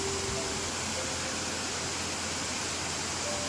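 Continuous rushing roar of the Phansache Pani waterfall deep in Hivale village forest, a dense, even wash of cascading water heard up close, with no talking.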